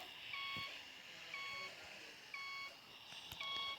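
A bus in a bus simulator game backs up, sounding a series of evenly spaced electronic reversing beeps, about one per second, clear but fairly quiet over a soft background hum.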